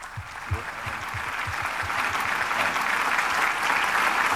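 An audience claps at the launch of a smart IPTV app, a few distinct claps at first swelling into dense, sustained applause that grows louder and fills the room.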